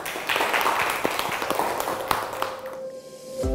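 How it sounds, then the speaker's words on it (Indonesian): Students in a classroom applaud their classmates' answers, a close, busy patter of clapping hands that fades out and is followed by a brief ringing tone. "Tepuk tangan untuk jawaban dari teman-teman kalian"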